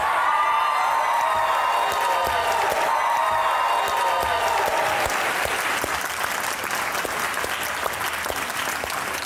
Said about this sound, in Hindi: आपकी भरपूर तालियों में आज के मेहमान हैं कुछ खास, मिकाल जुल्फिकार और आमना इलियास।